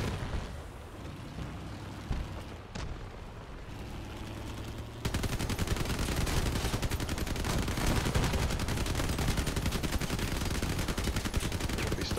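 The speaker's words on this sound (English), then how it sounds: "By firing bullets into buildings." Video game gunfire, subdued at first, then a sustained stretch of rapid automatic shots that grows louder and denser partway through.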